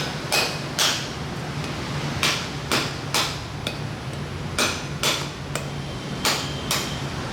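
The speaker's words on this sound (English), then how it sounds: "we're gonna get a cleaver or some really sort of sharp knife or a machete, and then you've got to kind of just crack this open" A cleaver chops repeatedly into a hard-shelled Sri Lankan wood apple, giving sharp cracking knocks in uneven pairs and runs over a steady background hiss.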